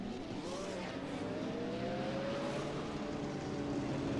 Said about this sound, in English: You can hear the cars firing right now.